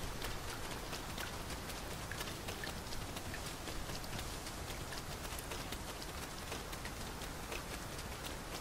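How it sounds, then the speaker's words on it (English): Steady rain hisses throughout in the video game Dragon's Dogma II, a dense, even downpour with faint patter and soft rhythmic hoof-like steps beneath it. "This rain grows more oppressive by the minute."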